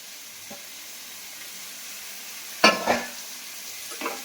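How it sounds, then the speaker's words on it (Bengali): Prawns with potatoes and spices stir-fried in a pan: a steady low sizzle with a few scraping stirs, one louder clattering scrape near the end. "চিংড়ি মাছগুলোকে দিয়ে ভালো করে কষবো।"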